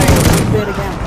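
Rapid gunfire from a weapon in a video game, a brief burst of dense loud shots that fades within about a second, heard close and mixed with a voice.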